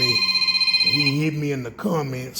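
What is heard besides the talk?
telephone ringing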